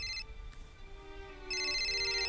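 A phone rings with a bright electronic tone, a short burst at the start and then a sustained ring that continues to the end.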